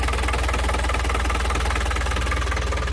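A small engine idles steadily up close, its rapid, even putter running without a break and no voices over it.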